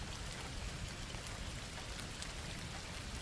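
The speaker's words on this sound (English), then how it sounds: "It was a night of steady rain, that kind of fine rain that pours through every crack and soaks to the bone" Steady fine rain falls in an unbroken, dense hiss of patter, even and constant throughout with no voices or thunder.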